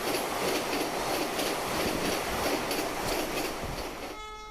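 A 16-coach Vande Bharat Express running a trial from Palghar toward Mumbai at up to 130 km/h, a loud, sustained roar of wheels and rushing air close by that eases off at the end.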